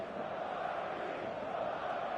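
A stadium crowd at an eFootball match roars as a steady, dense wash of massed voices, continuous and even throughout the short stretch.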